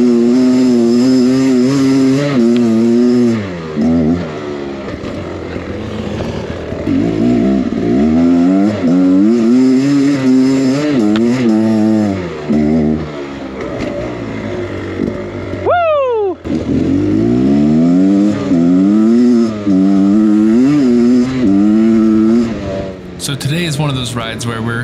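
A GASGAS EC300 enduro motorcycle engine rolls slowly at low revs, then revs up and down in repeated surging pulls, loud and close on a hard enduro trail, with a short dip partway through.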